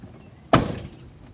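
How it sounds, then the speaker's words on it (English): A truck cab door swings shut and latches with a single solid thunk, close and loud, then decays into quiet during a pre-trip inspection. "Door latches properly."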